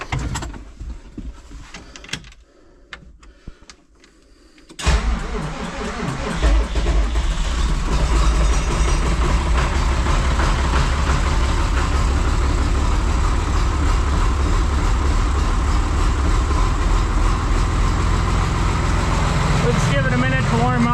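A John Deere 2955 tractor engine cranks over after a few seconds of quiet shop sounds, then settles into a loud, steady idle as it warms up in the shop.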